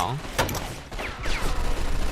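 Bursts of rapid automatic MG12 machine gun fire in the video game Mafia 2 crackle through a noisy mix, with faint talk underneath and sharp mechanical clanks.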